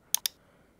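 Two quick, crisp computer mouse clicks a fraction of a second apart, close and clean against near silence, pressing a join server button in Discord.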